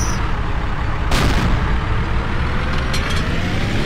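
An Abrams tank cannon fires once in a Battlefield quarry battle, a sharp broadband blast a second in, over a constant loud rumble of engines and battle noise, with a few faint later cracks.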